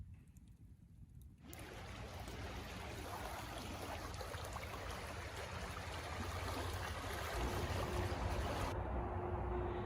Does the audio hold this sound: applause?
no